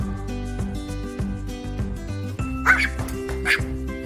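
Excited dog making quick, repeated whining yips and whimpers in a rapid rhythmic series, close and fairly loud, with no one talking.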